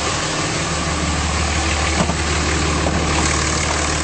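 A 2006 Dodge Ram 2500 pickup with a 5.9L diesel engine idles steadily under the hood, a dense, constant rumble held at an even level throughout with no voices.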